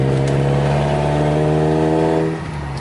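A car engine revs hard and loud during a first drive on a quiet back street, its strong harmonic drone steady and close before easing off near the end.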